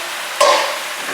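Chinese greens hit a very hot pan with one sudden sizzling burst that fades quickly into a softer hiss.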